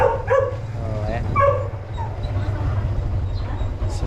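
Dogs bark and yip in a quick burst of a few calls at the start, then go quiet while a low engine hum continues underneath.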